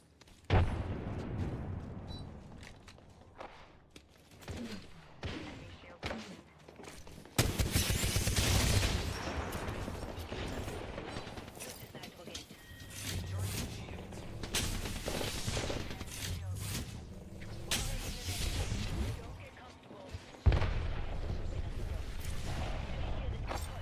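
Frag grenade explosions burst amid sustained rapid gunfire in a competitive shooter game, loud and dense throughout, with a voice talking over the battle.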